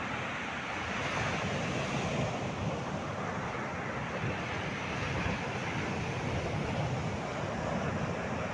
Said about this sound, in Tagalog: at malakas na po ang alon ngayong hapon